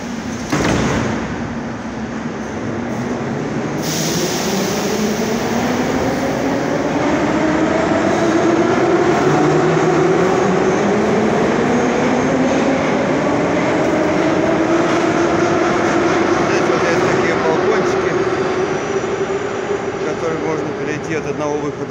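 A Moscow metro train on the Sokolnicheskaya line hums and whines as it pulls away from Komsomolskaya station, motor pitch rising steadily over a long stretch, loud and close with a constant rumble.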